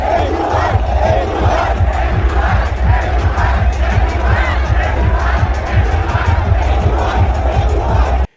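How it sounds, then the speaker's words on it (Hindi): A youth crowd at a Delhi event hoots and shouts at Chief Minister Rekha Gupta, a dense, loud wall of overlapping yelling and cheering that runs unbroken for the whole stretch, with no single voice standing out. "तो यूथ वहां पर हूटिंग कर रहा था, शोर मचा रहे थे"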